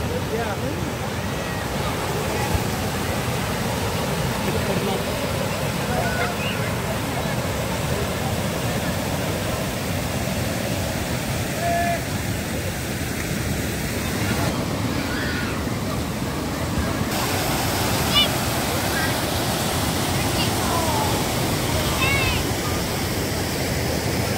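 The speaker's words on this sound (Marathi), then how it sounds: "पाण्याचा आवाज वाढू लागला" Waterfall at Pachira roars in a loud, continuous broadband rush that stays steady throughout, with no voices over it.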